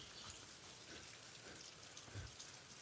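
Rain falls steadily on a roof as a constant soft hiss with faint scattered patter, heard from under the roof's shelter, with no voices.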